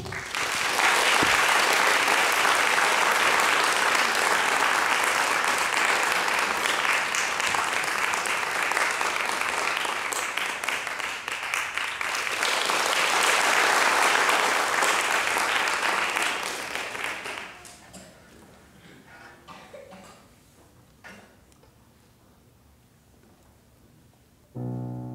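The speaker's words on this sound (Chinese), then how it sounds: "那我们现在就以最热烈的掌声来欢迎这三位上台" An audience at a chamber music concert gives loud, sustained applause as a violin duo and pianist take the stage. The dense clapping swells for about seventeen seconds, then fades to quiet stage noise and a few scattered claps.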